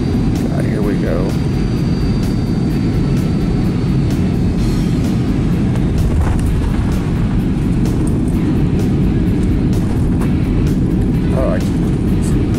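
A Lufthansa airliner landing hard at Frankfurt makes a loud, continuous roar of engine and rushing air that fills the whole stretch, with a passenger talking over it.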